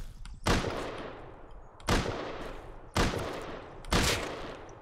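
Four sharp, loud gunshots ring out about a second apart in the Rust video game, each blast trailing off into a brief rumbling decay.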